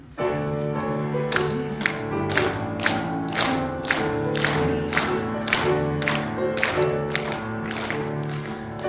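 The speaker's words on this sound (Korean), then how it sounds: "좀 빠른 템포로 손뼉 치시면서 기쁘게 찬양하시겠습니다" A Christmas worship congregation in a large assembly hall claps hands at a fast, steady tempo while singing a hymn, the sharp claps recurring in even rhythm under the voices and accompaniment.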